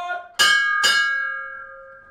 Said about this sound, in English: Let me go ring the bell.